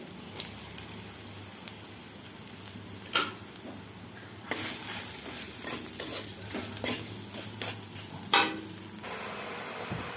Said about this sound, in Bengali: অল্প পরিমাণে জল অ্যাড করে আমি ভালো করে মশলা কষে নিচ্ছি